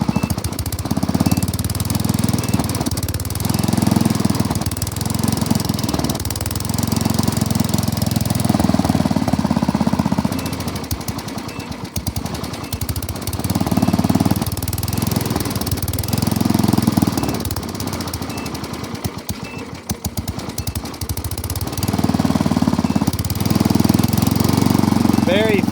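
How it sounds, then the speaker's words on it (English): An old tractor engine runs without choke, a loud, rough, knocking chug with a steady pulsing rhythm that holds close and continuous throughout, under occasional talk. "We'll try it with no choke."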